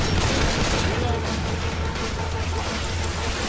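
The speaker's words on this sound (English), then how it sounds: "I'm sorry if I'm shooting you guys." Dense, continuous gunfire from the zombie game Left 4 Dead 2 rattles without pause at close range, loud and steady throughout, with voices mixed in.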